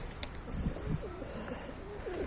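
Pigeons in an outdoor balcony loft coo softly in a low, steady murmur, with several rounded calls rising and falling over a faint background hum and no talking.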